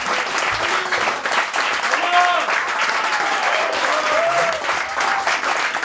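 An audience applauding at a stage show with musicians, a sustained dense wave of clapping, loud and even for several seconds, with a few voices calling out over it.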